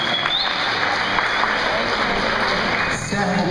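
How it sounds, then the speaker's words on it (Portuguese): A church congregation applauds during a Portuguese-language service, steady dense clapping at an even, fairly loud level throughout with faint voices mixed in. "Vamos aplaudir esse povo que trouxe a palavra de"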